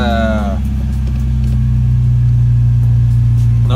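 A Honda Prelude's engine runs steadily nearby, a loud low drone with a faint voice briefly over it at the start.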